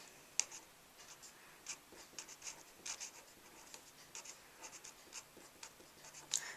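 Pen writing a phenotype ratio for a sex-linked Punnett square, faint close scratching strokes with light ticks and taps, no voice.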